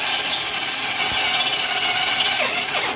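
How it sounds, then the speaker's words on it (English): A steady, high whining power drill grinds continuously through a metal bed rail, loud and close, with a slight pitch dip near the end. "I can't push as hard because it will bind the drill."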